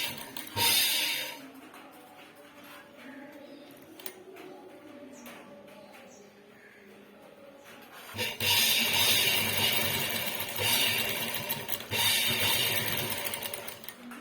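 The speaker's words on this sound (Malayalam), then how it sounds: "ഷോൾഡറാ നമ്മൾ 2 പ്രാവശ്യം തയ്ക്കണേ, അല്ല ഒറ്റ തയ്യൽ നിർത്തരുത്." A sewing machine stitching the shoulder seam of a churidar, quiet handling at first, then a loud sustained rattling run of stitches for several seconds with a short pause before it resumes.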